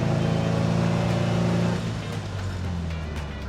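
A vintage Aero car with a 35-horsepower engine and a three-speed straight-cut gearbox gives a loud, steady engine note that drops in pitch partway through, then settles into a lower drone.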